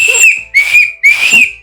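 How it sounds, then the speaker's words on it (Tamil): A whistle is blown at home to call people to come and eat. It gives three loud, shrill, close blasts, each about half a second long, with short gaps between them and a fourth blast just starting at the end. "இங்க வந்து ஒரு விசில் மாதிரி வச்சிருப்பேன்"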